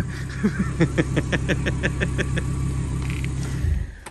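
Turbocharged car engine idling after a drive to let the turbo cool, a close, low steady rumble with regular ticking pulses, cutting off near the end.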